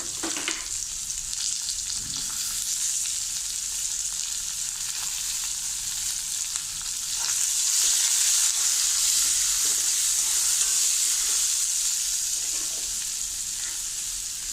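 Chopped onions sizzling in hot oil with ginger, garlic, green chilies and fenugreek powder, a steady hiss that grows louder midway as the pan is stirred, with no talking.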